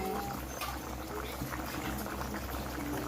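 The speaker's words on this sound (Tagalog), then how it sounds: "kumulo-kulo na siya" Balbacua, a thick stew of carabao skin, bubbles at a steady simmer in a pot, a faint, continuous burbling close by.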